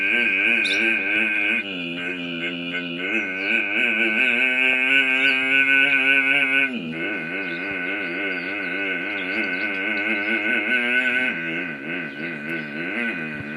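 A man vocally imitates a loaded truck straining up a hill, a sustained buzzing drone whose pitch wavers and shifts through gear-like steps, loud and continuous for over ten seconds.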